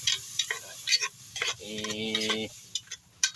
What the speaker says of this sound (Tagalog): Igisa na natin yung munggo.